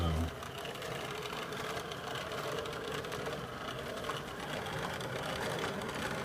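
A small motor whirs steadily with a faint rattling clatter as a Jouef 030 toy model locomotive rolls closer, continuous and fairly quiet throughout.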